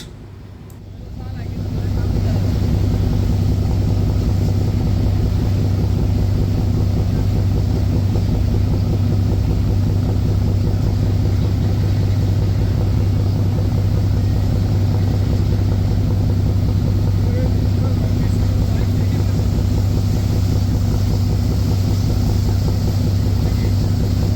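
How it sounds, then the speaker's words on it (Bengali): The passenger launch MV Shotabdi Badhon, bound for Hakimuddin, passes on a river with a loud, steady engine drone and broadband rush swelling up within the first two seconds and holding constant, mixed with wind buffeting the microphone. "এমবি শতাব্দী বাঁধন হাকিমুদ্দিনের একটি জনপ্রিয় লঞ্চ"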